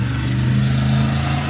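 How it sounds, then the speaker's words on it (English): A loud truck passes close by near a historic bridge in the Catskills, its engine a heavy, steady rumbling drone throughout the short moment, with no voices over it. "That's a very loud truck."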